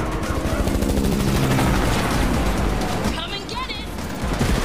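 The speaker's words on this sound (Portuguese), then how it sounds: "Metralhadora." Rapid bursts of machine gun fire and explosions in a dense, loud barrage from the video game The Matrix Awakens, with a voice briefly heard beneath the chaos.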